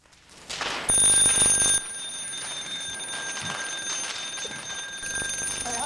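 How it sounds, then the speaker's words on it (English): A breathing apparatus's mechanical low-air alarm bell rings shrilly for about a second, then settles into a steady high whistling tone that persists to the end. "This is the mechanical low alarm."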